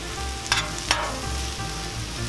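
Chicken fajitas sizzle on a Cuisinart 360 griddle at medium heat, a steady close frying hiss with two brief sharp scraping clatters near the start.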